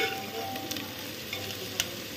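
Sliced onions with salt sizzle in a hot pan during home cooking of a goat meat jhola curry, a continuous close crackling fry broken by a few sharp spatters and stirring scrapes.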